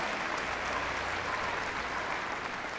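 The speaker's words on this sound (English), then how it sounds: "Let's give them a massive round of applause." Steady audience applause in an arena at a Crufts rescue dog agility event, a continuous, moderately distant patter of many hands clapping with no clear voices.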